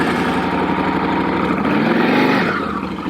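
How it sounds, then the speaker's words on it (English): A 2021 Yamaha Tenere 700 motorcycle idles close by with a steady, throbbing engine rhythm. The note dips slightly for a moment before settling back. "Oh, the bike sounds so good."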